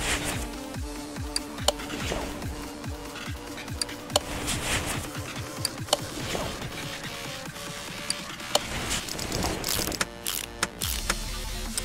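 Rapid ratchet clicking as spark plugs are tightened on a 1949 Mercury 8 coupe in Car Mechanic Simulator, a dense mechanical clatter of repeated pawl ticks with sharp accents, close and continuous.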